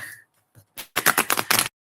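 Tarot cards shuffled by hand in a series of quick, papery riffling bursts, starting soft and growing into a dense, close run of card flicks over under two seconds, with no talking.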